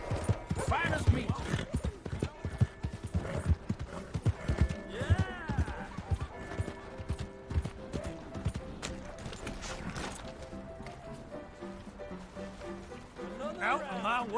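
Steady clip-clopping hooves of a galloping horse with a whinny in Red Dead Redemption 2, mixed with music and game sound effects, under occasional shouted talk.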